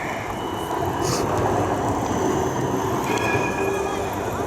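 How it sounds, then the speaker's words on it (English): Trams passing on an Amsterdam street, a steady rolling rumble with a brief high squeal of wheels, close by and continuous, heard amid busy outdoor city ambience. "Trams riding by."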